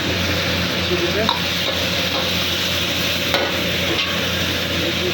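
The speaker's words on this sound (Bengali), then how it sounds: "ফুল হিটে এটাকে আমি ফ্রাই করবো" Food fries at full heat in a pan with black pepper and chili paste, a loud, steady sizzle with occasional clinks of stirring close by.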